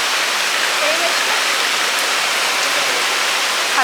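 Heavy rain pours down in a dense, steady hiss that fills the whole stretch without letup, loud and close, at night.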